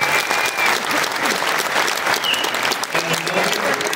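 An audience at a mariachi concert at Napa Valley College applauds steadily, a dense wash of clapping hands that stays loud and even throughout, with a crowd murmur beneath and no clear speech.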